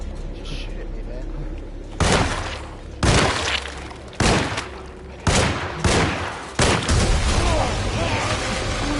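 Gunfire in the survival horror game Alone in the Dark, with six sharp, loud shots spaced roughly a second apart over a low ambient rumble. Each blast trails off into a short echo.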